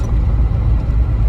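An old classic Saab car engine runs steadily with a deep, rumbling low drone and rough vibration, heard close up from inside the vehicle.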